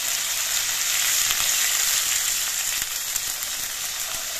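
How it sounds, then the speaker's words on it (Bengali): Broth poured into hot oil with turmeric and spices for a mustard hilsa curry gives a loud, steady sizzle and hiss that carries unbroken from start to finish, with no voices. "এবার এর মধ্যে আমি ঝোল দিচ্ছি।"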